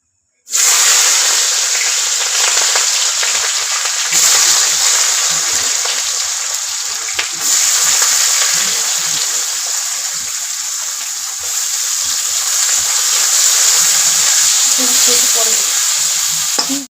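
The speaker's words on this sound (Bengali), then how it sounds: "তেল দিয়ে দিব মটন লঙ্কা রসুন পেঁয়াজ এবং টমেটো তেলের মধ্যে দিয়ে দেব" Mutton, chilli, garlic, onion and tomato sizzle loudly in hot oil. The frying is close and continuous, with stirring under it and no talking.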